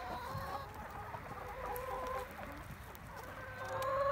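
Chickens in a coop cluck and murmur continuously at moderate distance, with a dense bed of overlapping bird calls and low background rumble, no voices present.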